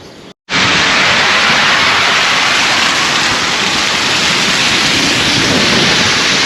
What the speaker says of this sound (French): je viens de me prendre un gros orage. Ça grondait pourtant